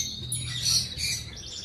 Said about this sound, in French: Il y a des oiseaux de partout.